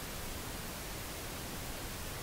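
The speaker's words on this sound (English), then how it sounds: "Second step is to use pink noise as our calibration tool." Pink noise used as a calibration signal for setting home studio monitor levels: a steady, unbroken hiss spread evenly from low rumble to high sizzle, quiet and constant, with no voices.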